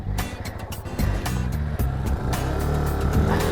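A Honda XR250L dual sport motorcycle runs on a rough back road with its engine loud and close, the pitch shifting as the rider changes gears.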